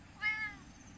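A cat gives a single short meow close by in a quiet banana plantation, a brief clear call alone over faint background hiss.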